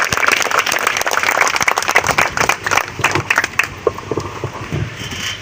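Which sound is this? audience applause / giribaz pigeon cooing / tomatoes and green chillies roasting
audience applause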